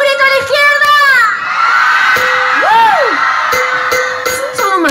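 Concert crowd at a live show in Atuntaqui, Ecuador, the left side of the audience shouting together, a loud sustained roar of many voices with a shrill whistle-like tone cutting through partway.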